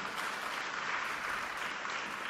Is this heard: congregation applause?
yes